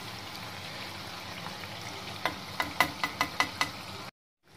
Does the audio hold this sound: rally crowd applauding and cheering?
no